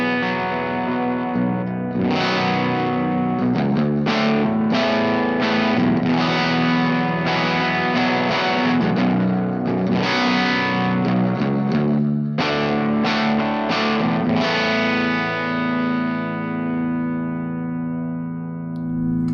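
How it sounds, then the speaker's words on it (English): Electric guitar tuned to B standard played through fuzz and an amp simulator, thick distorted chords and sustained riffs ringing continuously and loudly, with no talk. "This guitar is in B standard tuning, and it sounds like this."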